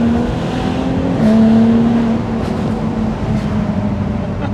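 A 2014 Jaguar F-Type's engine drones steadily from inside the car while it drives along a road, a low continuous hum holding one pitch and swelling slightly for a moment early on, with no talk over it.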